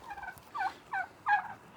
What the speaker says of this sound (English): You would have your turkeys right next to your house, but they're very friendly